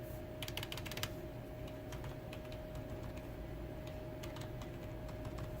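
A password being typed on a POS keyboard, with a quick run of close key clicks followed by sparser taps over a steady hum.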